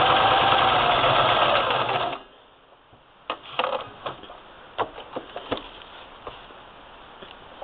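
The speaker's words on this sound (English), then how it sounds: "I'm just going to go ahead and stitch." A sewing machine stitches a patchwork placemat seam, a loud, fast, continuous whir for about two seconds before stopping, followed by quiet clicks and small handling taps.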